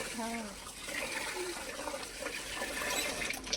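Rice is washed in a vessel of water for egg biryani, giving close sloshing and swirling water sounds throughout while people talk over it.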